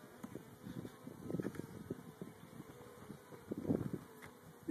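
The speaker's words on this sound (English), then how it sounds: "These are the bees." Honey bees from a 3-pound package of about 10,000 being installed in a hive buzz as a steady, fairly soft drone with swelling patches, close by and without talk.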